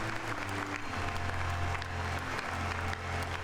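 Sustained applause at a sober memorial ceremony for entrepreneur Leonardo Del Vecchio, steady and dense throughout with a low hum beneath, no voices.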